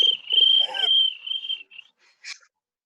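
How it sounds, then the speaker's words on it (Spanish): A cricket chirping alone, a steady high trilling run of calls with a few short bursts and brief pauses, fairly close and clear, with faint murmurs underneath. "El grillo."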